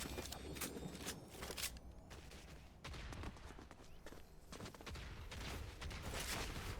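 Rapid electric-weapon gunfire in Fortnite crackles in dense bursts of sharp shots, steady and fairly faint throughout, with occasional gaps between volleys.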